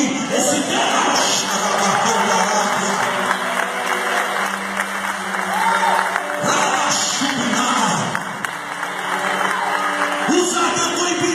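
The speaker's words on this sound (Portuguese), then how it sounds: "Quem é que pode aplaudir esse Deus?" A church congregation applauds loudly during a worship campaign service, a dense sustained roar of clapping with scattered whoops and cheers, swelling again toward the end while a voice carries over it.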